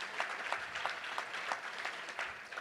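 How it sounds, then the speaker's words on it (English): Audience applause at a touchdown club luncheon meeting: steady, fairly loud clapping with distinct individual claps throughout, no speech over it. "A round of applause for all of our great sponsors."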